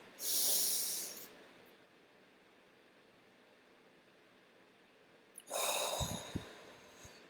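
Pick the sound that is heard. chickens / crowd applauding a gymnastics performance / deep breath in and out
deep breath in and out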